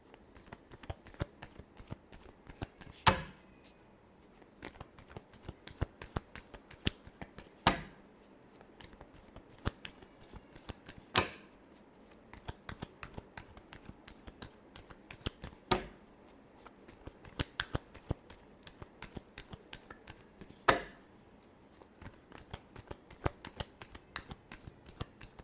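Tarot cards are shuffled by hand, close to the listener, in a quick, steady riffle of soft papery flicks. Louder snaps and taps land every few seconds, and no one talks.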